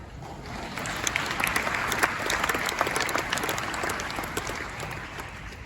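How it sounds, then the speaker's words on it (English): Audience clapping steadily after an announced launch of multi-asset funds at a corporate event, a dense, sustained applause of many hands at moderate level with a faint crowd murmur underneath. "This is where you clap."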